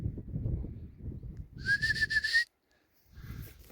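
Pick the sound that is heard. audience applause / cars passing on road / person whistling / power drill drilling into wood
person whistling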